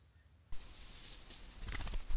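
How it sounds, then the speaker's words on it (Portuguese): Birds call near a water spot where a rufous-collared sparrow waits to drink. Short, faint chirps and cooing notes come over a quiet outdoor background, with a brief flutter and thump near the start. "O tico-tico rei já está ali, esperando para tomar um golinho de água."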